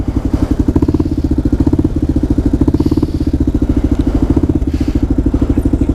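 A Kawasaki KLR motorcycle engine runs close by with a loud, steady single-cylinder thump and a pulsing idle-like rhythm throughout, no talk over it.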